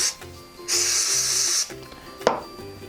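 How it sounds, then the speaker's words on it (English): A can of 606 permanent adhesive spray hisses onto fabric in one sustained burst of about a second, loud and close, with a short quieter spritz near the end. "This is permanent adhesive spray. I'm gonna give it a really good coating."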